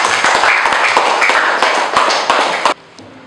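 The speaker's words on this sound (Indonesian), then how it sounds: "boleh berikan tepuk tangan yang meriah untuk kelompok 3" Classroom applause for a student group at an elementary school, a burst of many hands clapping close and loud, stopping abruptly near the end.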